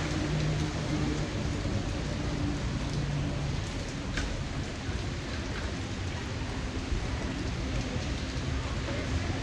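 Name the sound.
rain falling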